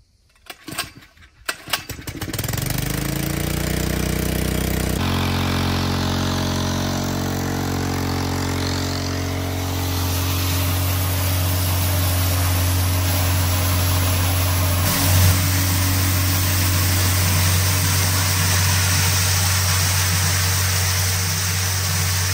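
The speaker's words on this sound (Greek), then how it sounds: "Οπότε ας δοκιμάσουμε και τη μικρότερη αντλία, να δούμε την δυναμικότητά της." A small pump runs to agitate a sprayer tank mixing sulfur and kaolin, starting after a few clunks and settling into a steady, loud droning hum with a strong low tone that continues unbroken.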